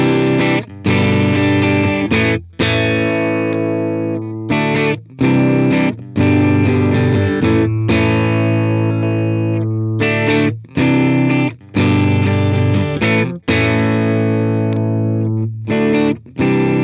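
Distorted electric guitar on a Suhr-style Warmoth build with neck and bridge pickups wired in parallel, playing sustained chords and riffs in phrases separated by brief pauses, loud and alone.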